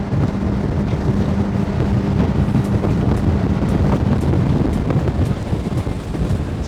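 A Formosa boat with a 70 hp outboard motor running at speed, around 6,000 revs, its engine drone buried under heavy rushing wind buffeting and water noise, loud and continuous throughout.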